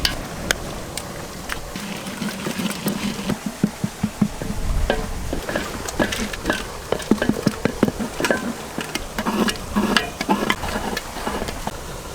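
Soaked grains are mashed in hot water in a pot for mutton haleem cooked outdoors in a village, giving a steady series of rhythmic thumping and knocking strokes with wet squelches between them.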